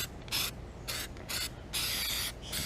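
Aerosol sealant sprayed in four or five short hissing bursts into the seams of a leaking gutter joint, close and fairly loud, with brief pauses between sprays.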